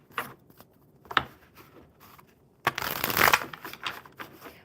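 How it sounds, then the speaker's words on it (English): Oracle cards riffle-shuffled twice, with brief taps and handling noises, then a longer, louder burst of shuffling near the end. "One more good shuffle for Bethany."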